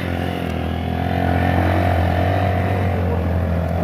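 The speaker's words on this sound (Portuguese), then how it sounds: "Sobe em cima da moto." A motorcycle engine runs on a mountain trail at Serrota in Ceará, holding a loud, steady, close drone that swells slightly partway through, with no talk over it.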